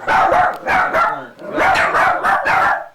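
Several dogs bark repeatedly in loud, close bursts, a rapid series of barks with short gaps between them.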